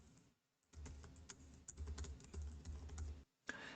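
Computer keyboard keys clatter in a quick, close burst of typing as an assignment name is entered in Microsoft Teams. The typing starts after a short pause and stops abruptly near the end.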